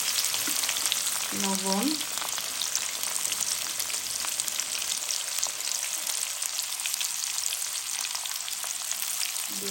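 Onion, green chilli and tomato frying in a pan of oil for a Bengali chicken and potato curry, a loud, steady, crackling sizzle throughout, with a brief voice speaking early on.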